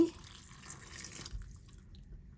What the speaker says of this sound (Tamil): இப்போ தண்ணி ஊற்றி